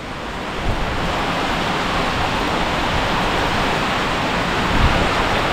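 Downpour lashing a village house in strong wind, a thick continuous rushing hiss with low gusty buffeting against the microphone, a couple of heavier thumps of wind, and nobody speaking.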